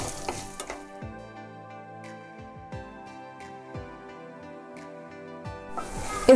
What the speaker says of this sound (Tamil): இப்போ இதில் 2 ஸ்பூன் அளவுக்கு மல்லி, காஞ்ச மிளகாய் ஒரு 8லேருந்து 10, ஒரு கைப்பிடி அளவுக்கு கருவேப்பிலை, வாசனை வர வரைக்கும் இதை வறுத்துக்கோங்க